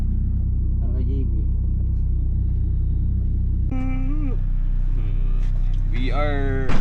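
Low steady rumble inside a moving car carrying five people, continuous under nearby conversation and talking voices throughout.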